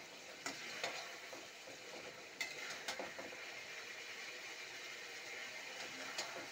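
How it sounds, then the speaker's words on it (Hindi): Boiled eggs frying in curry paste in a pan, heard as a faint, steady sizzle with a few soft clicks and scrapes from stirring. "ये जो अंडे मैंने उबाल के रखे थे ये मैंने इसमें डाल दिए, और इनको आप ज़रा सा इसमें भून लें"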